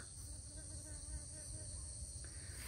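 Bees buzzing around flowering plants on a hillside, a continuous droning hum over faint background noise, steady and moderately close.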